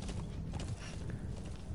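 Horse hooves clip-clop steadily in the video game Metal Gear Solid, a continuous low thudding gait with a faint whinny-like cry partway through, fairly close and without speech over it.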